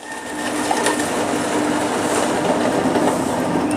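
A TNBC15 charcoal press fitted with a grinder head grinds charcoal into fine powder, giving a loud, steady mechanical roar with a faint whine and scattered gritty crunching throughout.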